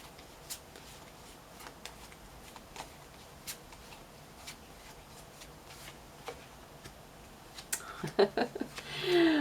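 Tarot cards are shuffled in soft, scattered riffling ticks at low volume, followed by a louder burst of handling and rustling near the end.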